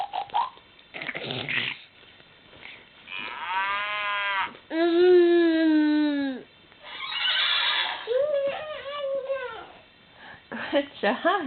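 A voice imitates a horse neighing, along with other farm animal noises such as cattle mooing, in a series of drawn-out whinny-like calls close to the microphone with short pauses between them.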